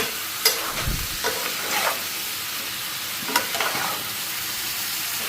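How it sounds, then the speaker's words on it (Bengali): Food fries and sizzles in a pan with a constant close hiss, punctuated by a few sharp scraping stirs of a utensil. "ভালো করে এটা ফ্রাই করে নিই"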